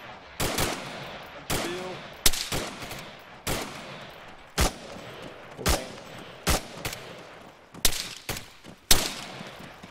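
Bursts of rapid rifle fire crack out during a live-fire combat drill, about a dozen sharp, loud shots in irregular clusters, with brief voices between them.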